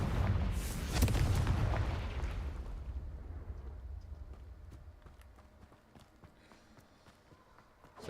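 A Confringo fire spell explodes in Hogwarts Legacy with a loud, deep burst in the first two seconds, then rumbles and crackles away into quieter scattered game sounds and small impacts.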